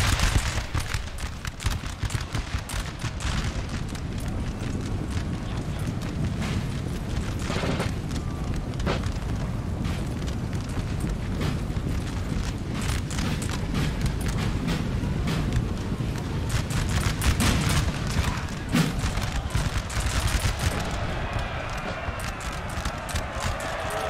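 Battle sounds from Napoleon: Total War, with dense, continuous rumbling booms and crackling gunfire. Austrian artillery fires throughout, loud and sustained, with no clear gaps between the blasts.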